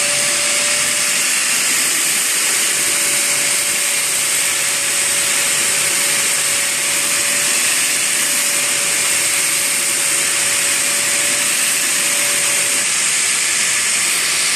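Steady, loud whirring hiss of a 10-inch grinding wheel running continuously under close work, a broad unbroken roar with a faint sustained whine throughout and no talking.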